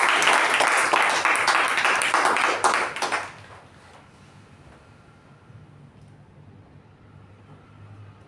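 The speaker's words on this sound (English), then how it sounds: "can we have a big round of applause for the president?" A meeting audience applauds the club president with dense clapping for about three seconds, which then drops off abruptly to a quiet room hum.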